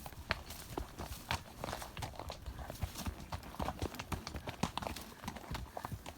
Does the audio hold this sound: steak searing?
no